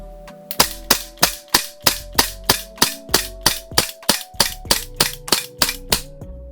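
A SIG Sauer P226 MK25 airsoft pistol fires BBs in a rapid, steady string of about fifteen sharp, loud cracks at close range, the pace holding even with no voices.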